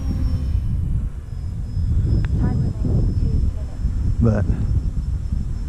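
An Eflite Valiant RC model plane flies past outdoors on a windy Florida day, its steady electric motor drone rising and falling under continuous wind noise while people talk nearby.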